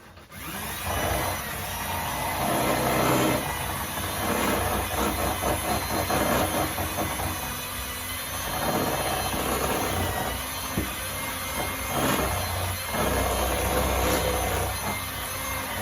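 Electric hand mixer whirring steadily through keto lemon pound cake batter in a home kitchen, a continuous loud motor drone with slight rises and dips as the beaters move, with no talking.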